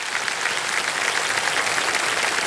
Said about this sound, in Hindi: ताली बजती रहे देवियों सज्जनों